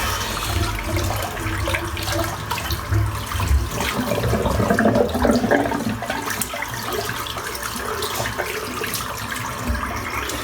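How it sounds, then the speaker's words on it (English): Water gurgles and rushes steadily as a full sink drains out, a continuous close watery wash with no talking, lasting throughout. "I'm just going to empty this sink out"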